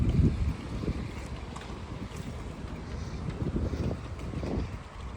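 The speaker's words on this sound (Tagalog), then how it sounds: "malakas ang hangin" Strong wind roars steadily across the microphone in low gusty buffeting, continuous and loud with no voices.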